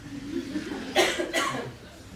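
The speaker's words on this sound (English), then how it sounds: "I'm not upset about her mom, I'm just coughing." Two quick, harsh coughs close by, one right after the other, over faint background murmur.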